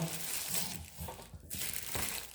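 Paper crinkles and crumples as a boxed DeAgostini Subaru Impreza WRX STI model car is unwrapped, with close, continuous rustling and a few sharper tears.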